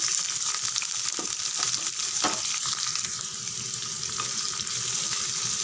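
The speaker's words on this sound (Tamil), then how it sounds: "பாதி அளவுக்கு வெங்காயம் வதங்கினா போதும்" Onions, green chillies, curry leaves and chana dal sizzle and crackle in hot oil in a pan, a steady close frying hiss with occasional stirring scrapes throughout, no talking.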